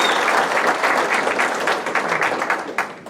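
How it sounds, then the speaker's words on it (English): Loud, steady applause fills the room at a graduation brunch, many hands clapping together close by for a few seconds without pause. "Give him a round of applause for that."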